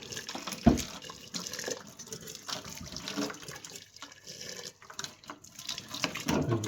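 Hot water from a kettle poured over jars of pickling onions and their lids, a steady liquid trickle and splash running for several seconds with a sharp clink near the start.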